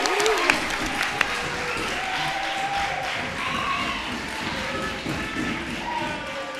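At a secondary school graduation ceremony, a hall audience claps for two classmates coming up on stage. The applause is steady and crowded, with a few sharper taps and thumps and faint voices mixed in.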